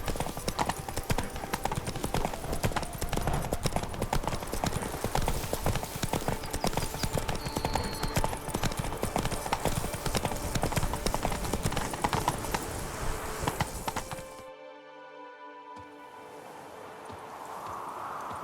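Roach the horse gallops in The Witcher 3, rapid hoofbeats drumming loud and close for about fourteen seconds before cutting off abruptly into quieter ambience.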